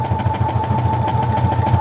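A Brother XR9550 sewing machine running steadily, its needle mechanism chattering in a fast, even rhythm over a constant motor hum, close up and continuous.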